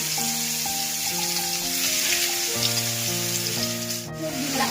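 Young jackfruit pieces hit hot oil for a traditional Bengali pachon, giving a steady, close sizzle that runs the whole time beneath background music.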